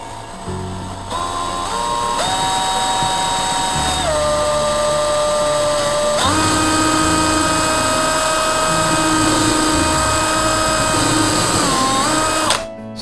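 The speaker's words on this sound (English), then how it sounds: "So first thing we're going to do is drill this pilot hole for our saw to go in." A DeWalt power drill boring a pilot hole with a 1/2-inch bit through pallet wood, a loud steady whine that shifts pitch as the bit loads and frees up, running nearly nonstop for about twelve seconds.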